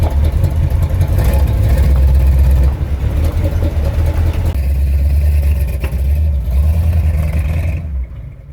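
Chevy 350 small block with a Holley carburetor driving down a road, a steady low engine drone heard from close by with slight swells as it pulls, easing off at the end.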